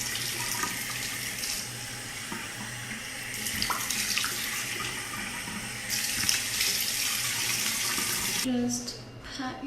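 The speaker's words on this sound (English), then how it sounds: "And then, just rinse off your face and all that fun stuff." Steady tap water runs into a bathroom sink as a face is rinsed, a continuous close splashing stream with small shifts in flow before it cuts off near the end.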